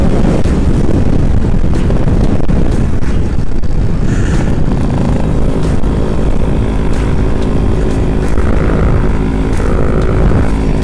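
A Yamaha RX-135 motorcycle ridden on a road in Tumkur, its steady engine drone loud and close throughout with heavy wind buffeting the microphone.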